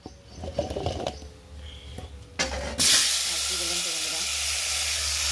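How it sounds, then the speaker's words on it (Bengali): Cumin and cut potatoes drop into hot oil, setting off a sudden loud, sustained hiss and sizzle that runs to the end, after a stretch of quieter kitchen clatter and faint voices. "এপাশে কিন্তু তেলে দিয়ে দিলাম জিরা, আর এই কেটে রাখা আলু দিয়ে দেবো।"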